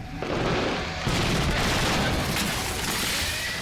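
An explosion staged for a film stunt scene roars loud and unbroken for several seconds as a dense, crackling blast of noise, with no voices.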